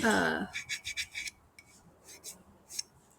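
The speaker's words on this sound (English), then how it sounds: "grind down the little edges." Laser-cut nightlight pieces having their small edges ground down, heard as a series of short, close rasping strokes in quick bursts after a brief voice at the start.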